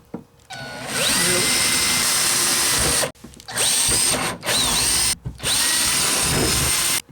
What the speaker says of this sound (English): Gonna drill some pilot holes.